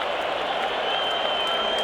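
Dense, sustained roar of a baseball stadium crowd cheering and applauding at a 1984 World Series game between the Detroit Tigers and San Diego Padres, a broad steady wall of noise without letup.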